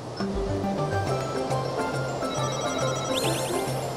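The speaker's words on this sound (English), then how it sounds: "Ooh, phone's ringing." A telephone rings in the Mario Party 4 video game as a repeating electronic ringtone pattern over busy game music, moderately loud and steady, with no talking.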